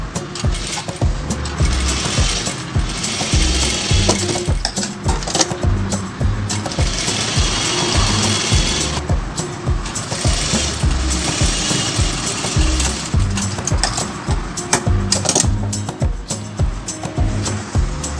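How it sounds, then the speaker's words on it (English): A sewing machine stitches a hook strip onto the back neckline of a fabric blouse. It runs in a steady, close mechanical whir with brief pauses, and no one speaks. "Now we will attach hook stripe"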